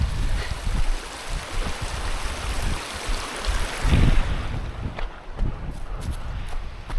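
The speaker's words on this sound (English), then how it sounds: "Looks like there's a creek flowing through here." Broad steady rush of water from a very shallow but wide mountain creek, continuous and fairly close, with wind buffeting the microphone and occasional louder splashes.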